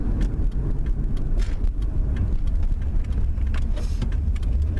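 A 2003 Ford Taurus with an AX4N transmission and a P0741 fault as the driver lifts off the gas and the torque converter drops out of lockup. A steady, loud engine and road rumble fills the cabin throughout, with no talk.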